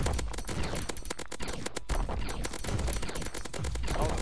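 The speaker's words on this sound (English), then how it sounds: "Oh, that's a fire cannon?" A fire cannon fires in the video game Rogue Jungle, producing a dense, continuous barrage of rapid blasts with crackling bursts throughout, loud and without pause.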